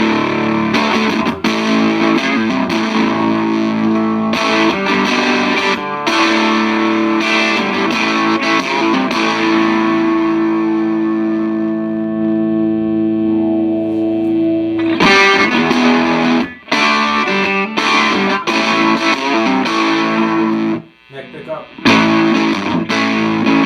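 Electric guitar played through an Orange Micro Dark amp with an Archer overdrive pedal engaged, giving loud, sustained driven chords and ringing notes that continue throughout with brief pauses between strums.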